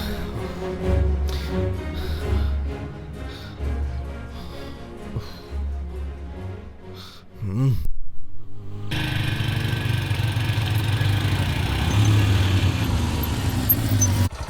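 A motorbike engine runs steadily, a close, loud mid-pitched drone that keeps going after a brief drop-out. Music with a vehicle hum plays before it.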